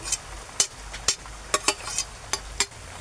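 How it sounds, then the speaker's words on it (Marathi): Two finely chopped onions and five or six hot green chillies being sautéed in a pan for a Marathi monsoon vegetable dish: a soft sizzle runs underneath while sharp stirring scrapes of the spatula land roughly every half second, close and clear, with no talking. "आता आपण हे परतून घेऊ मस्त."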